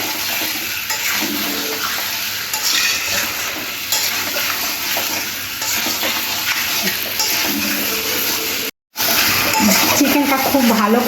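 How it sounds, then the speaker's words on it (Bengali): Chicken cooked in masala in a pan for a Bengali-style kosha murgi curry, stirred steadily with a constant loud sizzle and frying hiss, scraping strokes throughout and a brief dropout near the end. "চিকেনটা এইভাবে খুব ভালো করে নাড়াচাড়া করে কষে নিতে হবে।"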